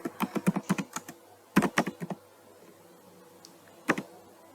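Quick bursts of typing on a computer keyboard, several rapid runs of clicking keystrokes separated by short pauses, close and fairly quiet.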